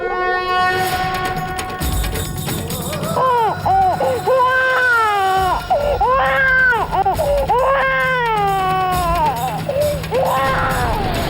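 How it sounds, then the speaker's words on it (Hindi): A baby cries loudly and continuously close by, with repeated wailing rises and falls over a rumbling background. "बच्चे की रोने की आवाज सुनाई दी मुझे"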